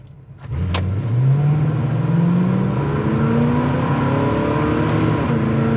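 A 1971 Oldsmobile Cutlass S accelerates hard from near idle, its engine rising in a long strong sweep, then a quick gear shift with a short tire chirp before it pulls again, loud and close.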